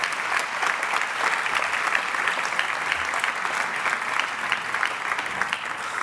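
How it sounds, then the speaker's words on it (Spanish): An audience at a forum on sustainable artificial intelligence in Cornellà gives sustained, loud applause. Dense clapping from the crowd fills the whole stretch without a break. "por favor, también un aplauso para ellos, creo que se lo merecen"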